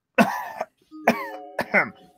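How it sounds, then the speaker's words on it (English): A man clears his throat close to the microphone in three quick harsh bursts with short voiced grunts, loud and alone. "He's got to clear his throat for this shit."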